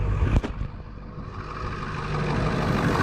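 Ford 7.3 Powerstroke diesel truck engine just started after a fuel filter replacement, settling into a steady, loud idle with a low rumbling drone close by, after a brief clatter near the start.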